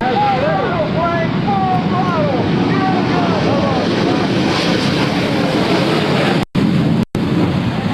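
Jet aircraft engines roar loudly and continuously in a drag race down the runway at the 2003 Rhode Island Air National Guard open house, with a commentator talking over the steady wash and two brief dropouts near the end.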